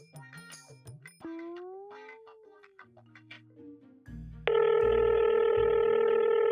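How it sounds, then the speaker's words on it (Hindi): A phone ringback tone starts after some soft electronic tones and beeps, holding as a steady, loud continuous tone. "जा रही है घंटी, उठाओगा फोन।"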